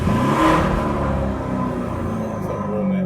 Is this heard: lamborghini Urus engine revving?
yes